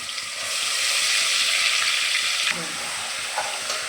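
Ginger-garlic paste for mutton biryani hits the hot pan with a loud, steady hiss that then settles into quieter sizzling and a few stirring sounds.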